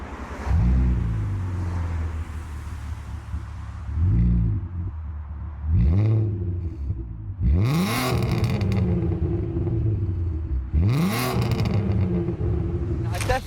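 An Audi TT's 3.2 litre VR6 engine revs through its exhaust in several loud, close bursts, each rising sharply then falling back to a deep burbling idle, with a voice speaking between blips.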